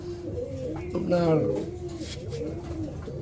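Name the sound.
racer pigeon cooing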